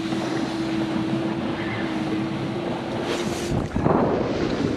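A sailboat under way at sea carries a steady rush of wind and water with a low constant hum, and a stronger gust or splash swells near the end.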